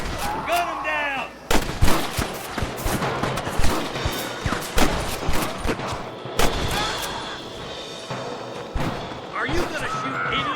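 Repeated gunshots crack sharply in the Western video game Red Dead Redemption 2, irregular shots and volleys close and loud, with shouting voices mixed in among the firing.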